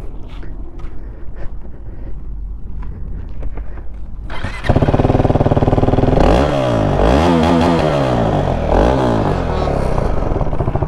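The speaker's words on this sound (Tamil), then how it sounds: "இருங்க எக்ஸாஸ்ட் நோட் கேட்டு போவோம்." A KTM RC390 BS3 motorcycle, quiet and clattering at first, then the exhaust bursts loudly into life and is revved hard several times, rising and falling in close, sharp sweeps.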